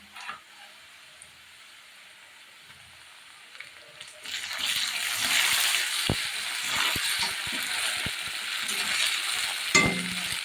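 Onion frying with cumin paste in a pan: after a quiet start, a steady loud hiss of sizzling rises and holds, with scattered clicks of stirring and a brief clatter near the end.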